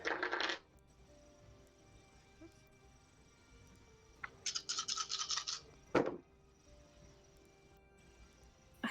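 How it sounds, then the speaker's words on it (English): Several dice clatter together, a handful shaken and rolled into a dice tray during a tabletop role-playing session. Short rattling bursts at the start and the middle are followed by a sharp clack as the dice settle, with quiet voices around them. "A healthy handshake of dice."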